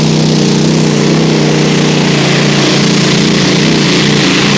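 Batman, a pulling tractor powered by a single Rolls-Royce Griffin aero engine, roars loud and close throughout at a 1996 European tractor pulling championship run, a dense, unbroken engine drone with no voices.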